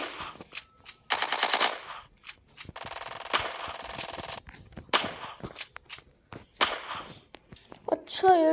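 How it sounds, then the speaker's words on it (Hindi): Gunfire from an AWM sniper rifle in a video game, heard as sharp bursts scattered through the clip, with a sustained rapid rattle in the middle, amid game sounds and speech. "AWM से मार रहा है"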